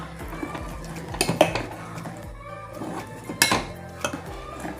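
A spoon stirs a thick mix of jaggery and raw rice flour in a pot, scraping and knocking against the metal in a few clinking bursts over a quiet background.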